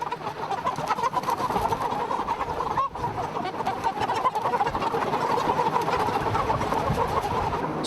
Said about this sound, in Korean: 창고 같은 농장 안에는 수만 마리의 닭이 함께 생활하고 있다